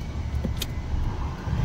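A car on an uphill slope moves off as the clutch is let out; a brief, quiet low engine rumble with a small click, and nobody speaks.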